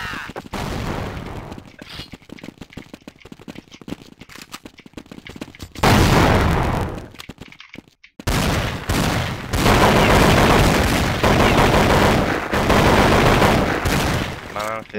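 Heavy gunfire on the de_inferno map in Counter-Strike, with rapid automatic bursts and loud overlapping shots filling the clip almost without pause, and players talking over the shooting.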